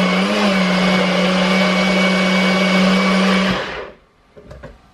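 A NutriBullet blender runs loud and close with a steady high whirring motor drone, then winds down and stops, followed by a few faint clicks.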